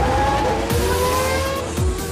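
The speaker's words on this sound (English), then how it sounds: "Come on, hit the gas." Red Bull Formula 1 car on the Red Bull Ring in Austria accelerating, its high engine whine climbing through quick gear changes, loud and close for about two seconds, with no voices.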